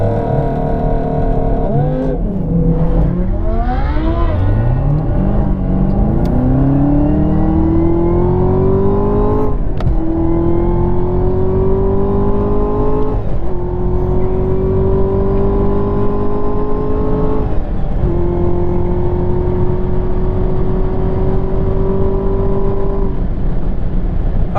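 A 2018 Camaro ZL1 1LE accelerates hard on a half-mile drag run, its engine note climbing through the gears with loud, sustained revving that holds near and steady with no talking.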